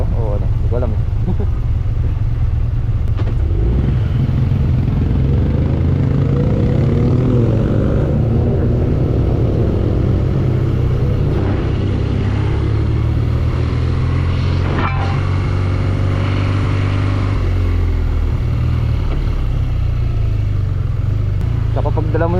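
BMW motorcycle engines idle and rumble loudly at a roadshow, a steady low drone with rising revving tones partway through, with voices talking over it.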